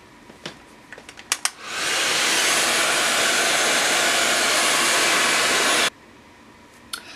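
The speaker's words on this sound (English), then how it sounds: "So I'll go ahead and start blow drying." A hair dryer blow-dries a lace wig, switching on after a few small clicks and running as a steady, loud, close rushing whoosh for about four seconds before cutting off abruptly.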